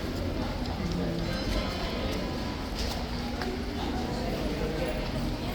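Horse hooves clip-clopping on pavement at a London stable gate during a changing of the guard, a steady continuous patter against a busy crowd background with voices throughout.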